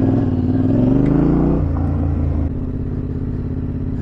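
A Yamaha Tenere 700 motorcycle riding through a paddock, its engine loud and close with a rising rev that drops as it shifts, then settles into a steady throbbing drone.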